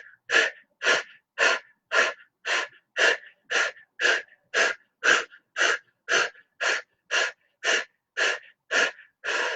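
About twenty sharp, rhythmic forceful breaths during a breathing exercise, evenly spaced, close and loud with short silences between each burst.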